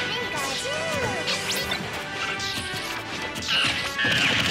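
A smash attack lands in a Super Smash Bros. 4 match between Pikachu and Diddy Kong, amid busy game effects with sweeping tones and repeated impacts.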